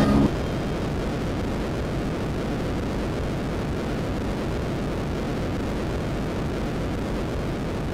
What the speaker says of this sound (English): And we've got our Sidewinder missile selected. Missile away.